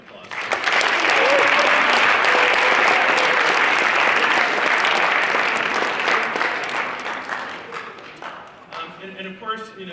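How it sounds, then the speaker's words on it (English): A banquet crowd for a varsity and JV football team gives the parents a sustained round of applause, dense and loud for several seconds, then thinning out into scattered claps and voices. "So how about we give the parents a round of applause?"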